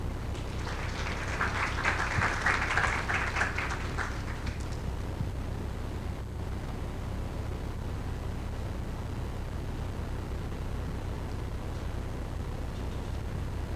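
Audience applause at a foundation forum on collaborative networks, a short burst of clapping in the first few seconds that fades out, leaving a faint hall hum and room noise.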